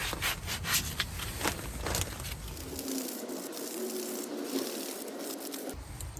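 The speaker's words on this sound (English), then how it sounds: "Just a bit of Emery cloth, just cleaning that bit there." Emery cloth rubs back and forth on the slider pins of an Audi A1 1.4 TFSI front brake caliper, making a close, scratchy rasp in quick strokes that fade to lighter rubbing, with no talking.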